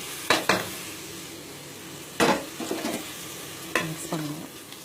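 Mushrooms with coriander, turmeric and chilli powder stirred in a frying pan, a low sizzle under several sharp scraping strokes of a spoon against the pan, close and clear.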